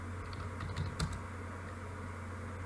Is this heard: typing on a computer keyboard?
yes